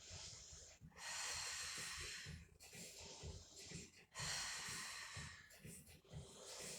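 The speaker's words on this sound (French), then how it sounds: "on va compter ses respirations" Breathing held and counted during a plank exercise on the toes: close, loud breathy exhales in about four long strokes with brief pauses between, alone without talk.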